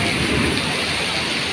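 Heavy monsoon rain pours down on a street and parked car, a dense, loud, unbroken roar that fills the whole short stretch.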